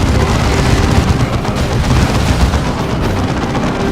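Artillery barrage firing in the video game Dawn of War 2: Chaos Rising, a loud continuous rumble of heavy booms and blasts with no pauses across the short stretch.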